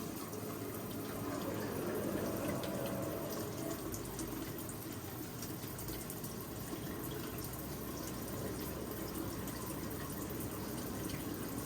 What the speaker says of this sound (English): Water is gonna go straight through, not through the filters.